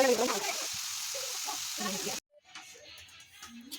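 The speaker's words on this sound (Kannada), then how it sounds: "ನಾವು ಶೆಜ್ವಾನ್ ಫ್ರೈಡ್ ರೈಸ್ ಪೌಡರ್ನ ಹಾಕಿ ಮಿಕ್ಸ್ ಮಾಡ್ತಾ ಇದ್ದೀವಿ" Fried rice with Schezwan fried rice powder and crisp half-boiled vegetables sizzles steadily in a pan, then drops away abruptly, leaving faint clinks and quiet background sounds.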